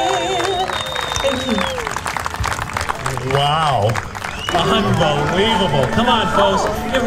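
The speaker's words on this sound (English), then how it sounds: "Give Rhonda a big round of applause." Outdoor crowd at a kite festival cheering and applauding after the national anthem, a loud continuous roar of clapping and shouts with whistles, while voices talk nearby and one exclaims.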